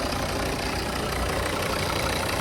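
A Volvo V50 2.0 D3 five-cylinder diesel engine idles steadily at close range, a soft, even mechanical hum with no voices.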